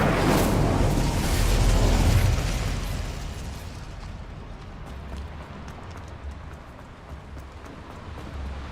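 In the Hogwarts Legacy video game, an Incendio fire spell bursts with a loud whooshing roar of flame that swells for about two seconds, then fades into a lingering crackling rumble.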